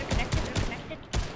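Rapid video game gunfire crackles in quick bursts, several shots close together over a short stretch, with voices talking over it.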